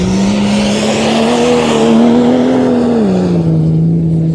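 A car slides through a motorkhana stage, its tires squealing in a long, loud, wavering howl as the engine strains close by, the skid rising and falling before easing off.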